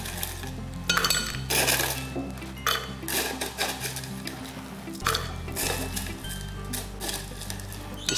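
Ice cubes tipped into a blender jar for a pisco cocktail, loud clattering and clinking knocks in bursts over a low steady hum, with no talking.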